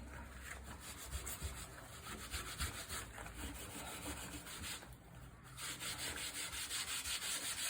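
Coarse wire wool rubs old French polish off a Victorian walnut table top in quick repeated strokes, a soft close scratchy rasping with a brief pause partway through.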